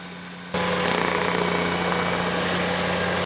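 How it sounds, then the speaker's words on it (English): A Ventrac stump grinder attachment grinds a tree stump, starting abruptly and holding a steady, loud, close engine drone with a high-pitched whine for about three seconds before cutting off. "This thing is amazing at grinding stumps."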